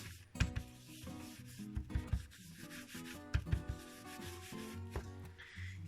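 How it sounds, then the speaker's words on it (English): Embossing buddy rubbed over an embossed crafting surface, producing quiet rhythmic scratchy strokes, close-up and faint, repeating in short bursts. "go back on top with the embossing buddy"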